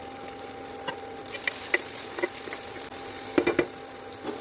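Tomato pieces dropped into a pan of half-fried onions and chicken, with a steady sizzle under scattered knocks and clatters and a cluster of sharper hits toward the end, close and moderately loud.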